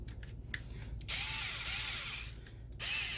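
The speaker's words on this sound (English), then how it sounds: "we want to come inside and screw these things up from underneath" A power drill drives screws in from underneath with loud whirring bursts that rise and fall in pitch, separated by brief pauses and small clicks, close by.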